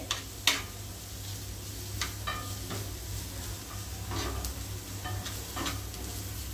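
Onion sautéing in butter and garlic for white sauce pasta, a low steady sizzle with occasional light scrapes and taps of a spoon on the pan, close but quiet.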